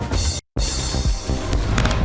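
Festive fireworks burst in a dense run of booms and crackles, loud and close, with one brief cut to silence before the bangs continue.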